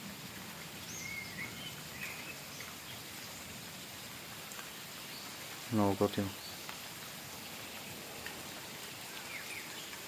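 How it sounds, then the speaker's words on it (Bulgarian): Steady light rain hisses faintly outdoors around the Bankya Residence grounds while small birds chirp softly in the distance, and a person speaks briefly midway. "Обаче е много готино като вали. Едно спокойствие, птичките."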